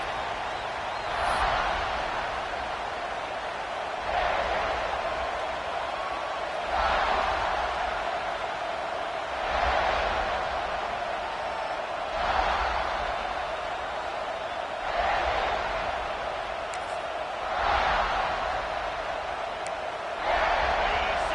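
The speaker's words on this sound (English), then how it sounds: "This crowd, full throat, splitting the eardrums" Crowd at a college football stadium roars in rolling, sustained surges after a touchdown run, a dense wall of cheering that swells and recedes roughly every few seconds across the whole stretch.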